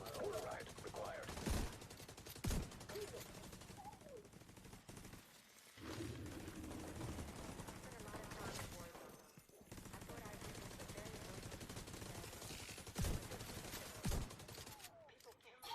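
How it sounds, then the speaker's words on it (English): Shotgun blasts and other gunfire in The Division 2, several sharp loud bursts scattered through dense game noise, with a player talking over the action. "this shotgun still does a shitload of damage from that far out"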